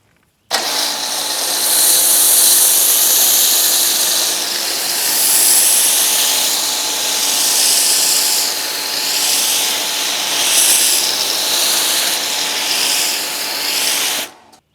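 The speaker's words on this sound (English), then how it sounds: "I want to see if I get any foam production out of this pressure washer" A 2 GPM, 1,000 PSI commercial pressure washer drives a foam cannon, making a loud, steady hissing spray that starts abruptly, holds with slight surges throughout, then cuts off near the end.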